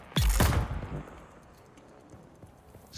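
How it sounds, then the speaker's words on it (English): A turret in Dune: Awakening fires a close, loud burst of a few shots, with echoes trailing off into quieter background rumble. "Okay, that turret is really good."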